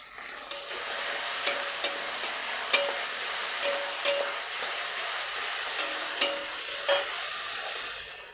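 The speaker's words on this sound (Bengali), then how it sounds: "এটা ভালো করে ভেজে নেব।" Bread snack fries in a pan with chili and soy sauce, a soft continuous sizzle joined by repeated light scrapes and taps of stirring, faint and fairly distant, with no talking.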